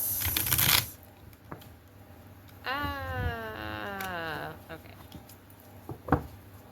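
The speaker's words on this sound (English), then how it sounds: "Make sure nice and shuffled." A deck of reading cards is shuffled by hand up close, with a burst of quick riffling at the start and soft shuffling and card taps afterward in a quiet room.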